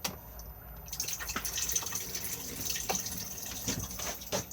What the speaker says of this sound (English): to flush, just push the blue button